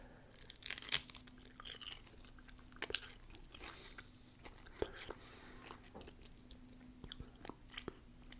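Thin, toasted and seasoned Korean roasted seaweed snack being bitten and chewed up close, with soft, sparse crisp crunches and faint crinkling scattered over a quiet background.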